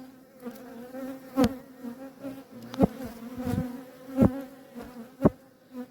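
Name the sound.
honeybees at the hive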